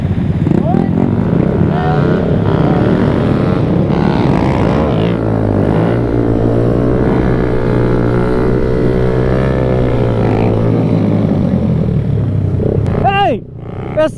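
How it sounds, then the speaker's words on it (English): Motorcycle engine drones loudly and steadily through wheelie practice, its pitch rising and settling as the bike holds speed, with a brief sharper rev near the end. "Does this guy know how to ride a motorcycle?"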